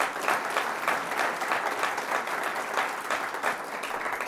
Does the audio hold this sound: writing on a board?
no